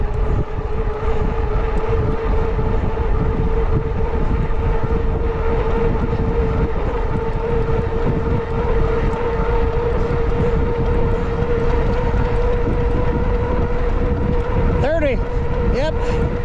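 A JASION X-Hunter folding ebike at top speed on a winter ride gives a loud, constant motor whine over steady wind rush, unbroken throughout, with a brief warble near the end.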